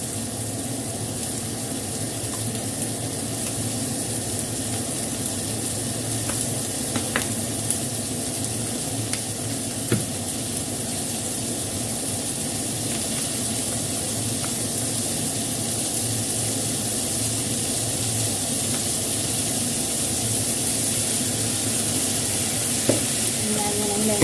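Chicken feet frying in a pan with lemongrass, a constant close sizzle with occasional stirring scrapes, steady and fairly loud, no voice over it.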